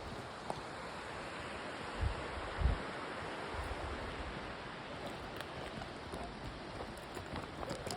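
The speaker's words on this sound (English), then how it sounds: "The hidden waterfalls." A hidden waterfall at Fairmont Hot Springs, British Columbia, pours in a steady broadband rush, with a few low thumps breaking the constant wash of falling water.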